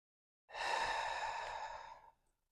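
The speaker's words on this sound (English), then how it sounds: "Deep breath." One long, smooth, airy breath is drawn in and let out close to the microphone during a yoga practice, lasting under two seconds against silence.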